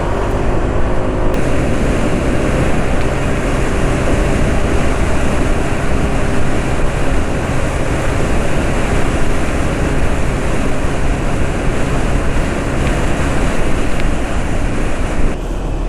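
A vehicle fitted with a large extra pipe in the air intake after the filter drives fast, making a loud, steady roar of wind and engine noise that runs without a break.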